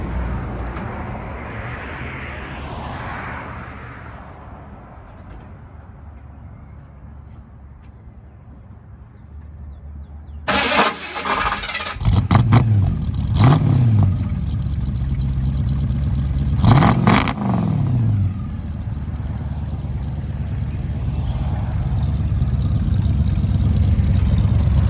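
A 1966 Mustang engine starts abruptly after a stretch of quiet ambient noise, then idles roughly and revs in two or three distinct swells, staying loud and close.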